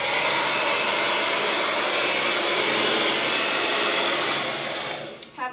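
A blow dryer runs on high heat with a loud, steady whooshing hiss that holds constant, then cuts off near the end.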